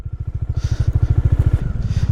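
A heavily loaded motorcycle labors on a mountain route in Sikkim, its engine thudding in a loud, steady low chug of rapid pulses close by that roughens and shifts near the end.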